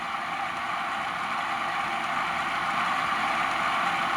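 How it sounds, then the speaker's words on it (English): Steam locomotive water fill effect from an Econami UK steam DCC sound decoder, a steady even hiss and rush of running water held at constant moderate level throughout, with no talking. "And this is a water fill."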